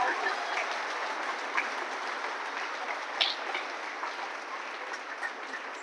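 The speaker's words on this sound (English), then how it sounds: "give them one big round of applause." An audience at a birthday celebration and presentation applauds food bank workers with steady, even clapping that holds at constant loudness throughout, with no voices on top.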